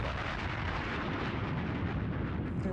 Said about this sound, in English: a terrible explosion that blew up the music store